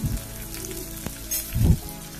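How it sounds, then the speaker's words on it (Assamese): Onions with crushed ginger and garlic sizzle softly in hot oil, a low steady frying hiss with a couple of brief stirring bursts, heard alone without talk. "এয়া মই আদা নহৰুখিনি দি অলপমান ভালকে মই এতিয়া ভাজিম"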